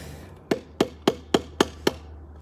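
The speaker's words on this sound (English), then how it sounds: "in order to really make this thing work, you really need to hammer it down" Six evenly spaced, sharp hammer strikes on wood, driving a wedge into the handle of a homemade oak longbow, loud and close with no talking.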